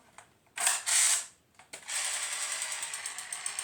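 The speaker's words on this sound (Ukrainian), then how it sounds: "Тут автоматична перезарядка на автоматі АК-42" A toy AK-style rifle's automatic reload mechanism clicks and whirs in two loud bursts, then a rapid mechanical ratcheting runs steadily in a close, dry rattle.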